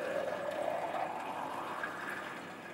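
Reverse osmosis water runs steadily into a laboratory graduated cylinder during rinsing, a continuous filling rush with no voices.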